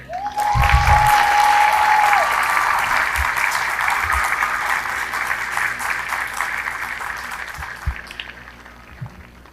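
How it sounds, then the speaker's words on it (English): A graduation ceremony crowd claps for the military band, loud sustained applause that swells and then slowly fades out. "Ladies and gentlemen, how about a round of applause for the band?"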